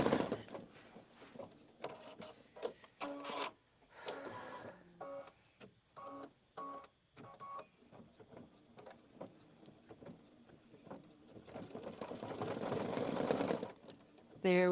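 A sewing machine stitching in rapid bursts, with short mechanical runs and stops followed by a longer continuous run near the end, close and clear with no speech over it.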